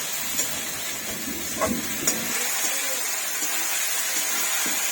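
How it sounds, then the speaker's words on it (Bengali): Onion-spice mixture sautéed for mutton curry in a pan, a steady hissing sizzle with a few soft utensil scrapes early on, close and even, with no words heard. "এটা ভালো করে কষিয়ে নেবো। কষিয়ে নিয়ে তারপরে মাংসটা দেবো।"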